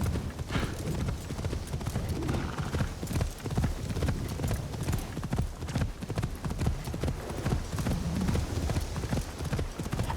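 Horse hooves clip-clop steadily and continuously in Assassin's Creed Shadows, a fairly close, rhythmic trotting with a brief whinny-like texture and faint game ambience underneath.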